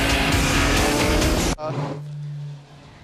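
Race cars at the 24 Hours of Le Mans in a driving rainstorm: a loud, close engine roar with hiss cuts off abruptly midway, leaving a quieter low hum and faint background.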